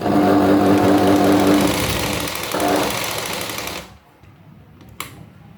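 Sewing machine stitching a sari petticoat, a loud steady mechanical whir running for close to four seconds before cutting off, leaving faint room noise and one small click.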